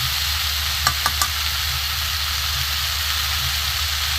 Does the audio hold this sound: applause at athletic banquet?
no